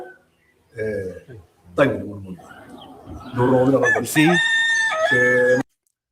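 A rooster crows in a loud, drawn-out call near the end, following a few seconds of voices talking.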